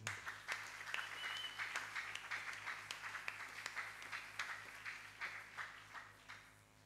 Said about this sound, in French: Louons le Seigneur, acclamons ce témoignage.